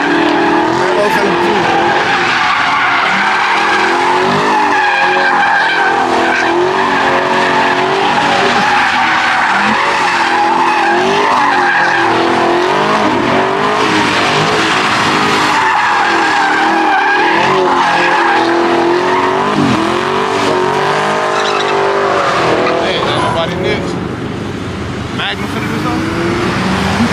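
A Chevrolet Camaro at a car meet, engine roaring and revving hard with tires squealing and skidding continuously, loud and close, while people shout nearby.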